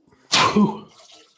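A single sharp, close sneeze bursts out suddenly and fades quickly into quiet.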